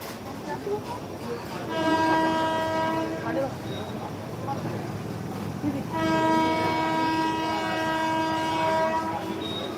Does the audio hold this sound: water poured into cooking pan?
no